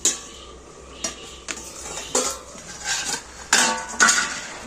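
Metal clanks and clinks as a cooking pot lid is lifted off a pot of Bengali pui shaker ghonto, several sharp knocks spaced about a second apart, close and fairly loud, with no talking.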